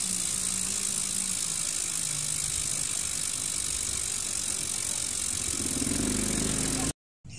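A 10-speed bicycle's loud rear hub ratchet gives a steady, rapid buzzing click as the bike rolls outdoors, close and continuous over road noise, then cuts off briefly near the end.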